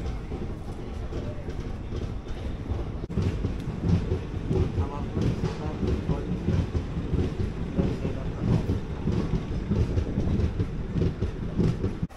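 The Sri Jagannath Express at Balasore station platform, a deep continuous rumble of the train with rolling clanks and rattles, a voice talking faintly over it.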